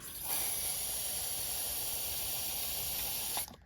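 A can of spray paint hisses steadily into a cup for about three seconds, close and continuous, then cuts off abruptly, with no voices over it.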